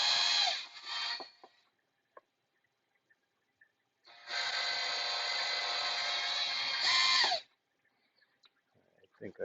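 A power drill bores holes in a hose in two bursts, a short whirring run at the start and a longer steady whine later, close and loud with quiet gaps and faint handling clicks between.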